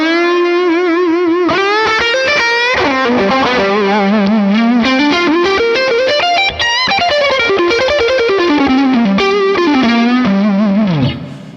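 Electric guitar run through a Morgan amp plugin with an OD2 overdrive pushing gain into a clean amp, plus reverb and delay, playing a loud, continuous sustained melodic lead with bends and slides, close and alone.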